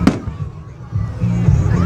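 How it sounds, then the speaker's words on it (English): Fireworks explode with one sharp, loud burst at the start, then a rumbling crackle builds and swells toward the end, with distant crowd babble underneath. "Massive explosion."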